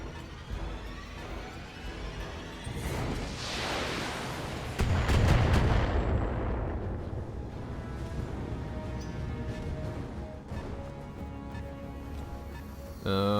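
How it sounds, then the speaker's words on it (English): Trebuchet fire in the BattleTech video game booms in a heavy, sustained barrage that swells to a loud crashing peak midway, then rumbles and crackles on before a fresh impact at the end. "it's fucking trebuchet fire"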